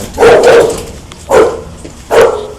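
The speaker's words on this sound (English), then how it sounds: "A mean dog." Three loud, close dog barks, one long and two short, separated by brief pauses, with faint background noise and no talking.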